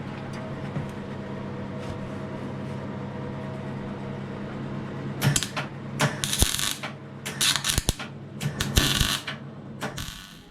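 A new car floor panel is plug welded with short crackling, sputtering bursts of the welder, several separate spurts in the second half over a low steady hum, fairly faint.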